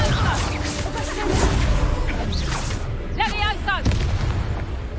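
Fiery Confringo spell explosions burst amid chaotic combat in Hogwarts Legacy, booming blasts and whooshes layered over game music and a talking voice.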